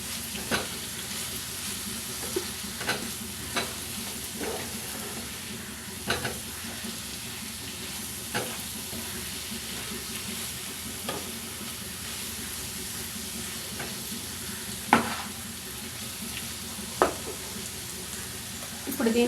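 Salted chopped onions sizzle softly in a pan for a Telugu onion pickle, with regular scrapes of a spoon stirring them throughout; a voice speaks faintly now and then.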